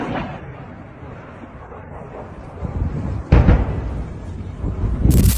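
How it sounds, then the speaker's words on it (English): A missile blasts apart in mid-air with a sudden loud boom that rolls into lingering rumble, then another sharp burst follows near the end, all over a steady wind-buffeted background. "A missile suddenly streaked past and detonated in mid-air"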